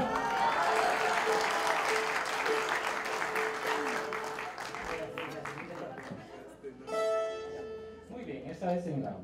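Audience at a tribute to luthier Jorge Campos applauding loudly for several seconds, the clapping thinning out as it fades, followed by a few plucked guitar-like string notes near the end.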